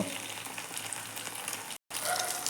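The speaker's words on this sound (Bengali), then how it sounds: "ডিমগুলো আমি উল্টে দিয়েছি, এখন আরেক পাশ ভাজতে দেব" Eggs frying in hot oil on their second side after being flipped, a steady close crackling sizzle throughout, briefly cut to silence near the end before resuming.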